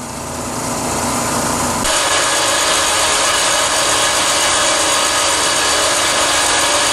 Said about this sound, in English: Go ahead and start the vacuum system up